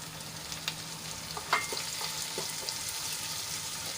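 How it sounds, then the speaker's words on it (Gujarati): Sliced onion and chopped tomato fry in oil in a pan, giving a steady close sizzle with a few light stirring clicks and scrapes. "ડુંગળીને આપણે લાલ થાય ત્યાં સુધી એને ફ્રાય કરી લઈશું"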